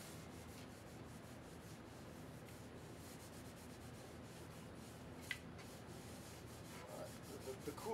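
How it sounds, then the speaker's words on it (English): Steady soft rubbing as sealant is worked into a stained wooden DW drum shell with a soft cloth, a quiet continuous scratchy friction with faint rhythmic strokes and one small tick near the end. "rub it in with the grain, and then buff it off with a soft cloth"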